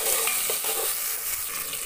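Handful of mint leaves sautéing and stirred in a hot pan for salna, a continuous close sizzle with faint scraping as the leaves are moved around.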